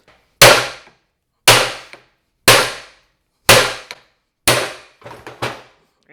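A hammer strikes repeatedly to drive out parts from a vehicle suspension, about six loud, sharp metallic blows spaced roughly a second apart, each ringing briefly before decaying, close and alone.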